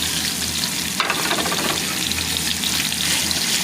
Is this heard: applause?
no